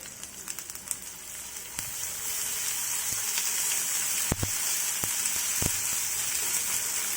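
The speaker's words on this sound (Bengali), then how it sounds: "এটাকে কিছুক্ষণ কষিয়ে নেব যতক্ষণ পর্যন্ত না এর কাঁচা গন্ধটা দূর হয়" Ginger garlic paste fries in a pan with a bright, continuous hiss that thickens partway through, dotted with sharp crackles and a few louder pops.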